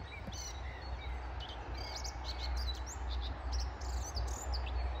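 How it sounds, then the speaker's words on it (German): Outdoor birdsong on a spring walk: several birds chirping and tweeting repeatedly, with bright short calls scattered throughout over a low, steady background rumble, and no talking. "hier drinnen hört man echt richtig schön die Vögel zwitschern"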